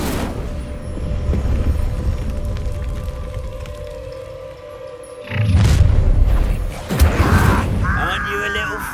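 An Incendio fire spell bursts in Hogwarts Legacy, a loud booming blast at about five seconds that rises over a low rumbling game ambience, followed by further heavy thuds and swells.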